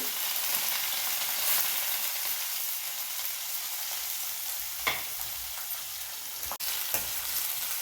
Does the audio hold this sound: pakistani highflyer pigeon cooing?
no